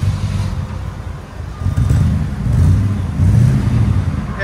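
A 1980 Mercedes 450SEL with a 4.5L V8 and Borla Pro-XS muffler exhaust revs in a few rising swells over a deep idle rumble, loud and close.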